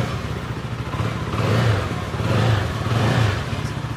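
A CF Moto 300SR motorcycle engine sounds loud and close over a steady idle, swelling in a few slow revs.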